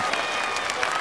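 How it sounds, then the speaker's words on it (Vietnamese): Studio audience applause on a Vietnamese celebrity cooking game show right after a countdown ends: a dense, steady wash of clapping that fills the whole short moment at even loudness, with voices mixed into the crowd noise. "Vỗ tay."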